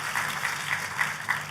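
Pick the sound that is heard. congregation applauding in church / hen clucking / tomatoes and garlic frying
congregation applauding in church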